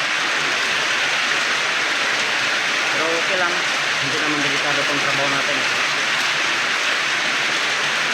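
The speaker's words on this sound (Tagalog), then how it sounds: "Ito ulan talaga guys. Lakas pa, may kasama pang hangin." Steady, heavy rain driven by wind hisses across the whole stretch, with someone speaking over it in the middle.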